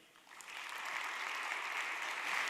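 Audience applause at an award ceremony, a steady wash of many hands clapping that swells after a quiet start and holds at full strength, fairly close, with no voices over it.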